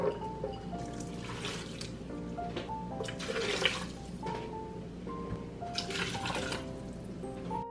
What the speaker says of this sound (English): I'm just going to rinse it out and make my cashew milk.